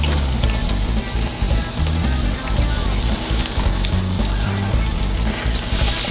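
Garlic-oiled chicken thighs sizzle over rising grill flames, a dense, steady frying hiss that runs loud and close without a break, with low crackle beneath.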